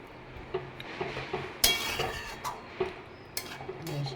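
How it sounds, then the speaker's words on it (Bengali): Malai chicken with kasuri methi being stirred in a pot. A spoon scrapes the inside and clinks against the metal again and again in an uneven rhythm, close and fairly quiet, and no one speaks. "এইবারে এটাকে নাড়িয়ে নেব"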